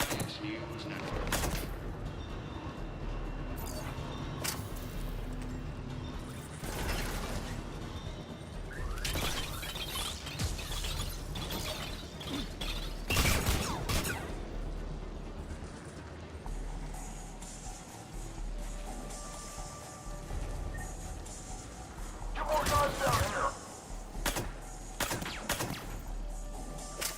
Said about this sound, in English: Reports are coming in of gunfire on the Silver Sun Strip.